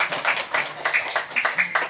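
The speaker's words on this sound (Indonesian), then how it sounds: "Tepuk tangan dulu" Audience clapping along at a short Christian school worship service, quick bursts of hand claps in a rhythmic pattern, moderately loud and close, with faint voices mixed in.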